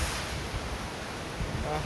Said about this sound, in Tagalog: Grabing hangin guys